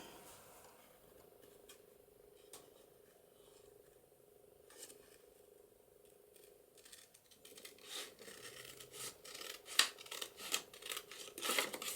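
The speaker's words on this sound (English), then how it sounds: "And then use my scissors to trim around that." Scissors trim around a vellum acetate pocket, making faint, quiet snips and light paper crinkling that grow busier and louder toward the end, with no voices.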